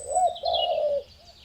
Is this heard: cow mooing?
no